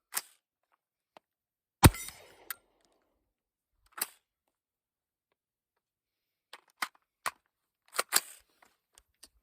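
Suppressed .300 BLK rounds fired from a Witt Machine & Tool Dirty 30 short-barreled rifle at an outdoor range, a string of sharp, distinct reports spaced irregularly, some in quick pairs, with quiet gaps between.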